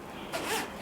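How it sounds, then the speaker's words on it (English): A winter jacket zipper drawn partway up in one short, quiet zip burst, close by with nothing else around it. "you can even like zip it up half the way"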